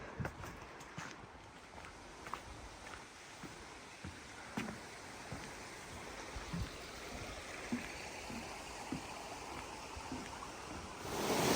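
Cedar Rock Creek near Brevard, North Carolina, flows with a constant soft rushing, faint, and occasional light steps or knocks scattered through.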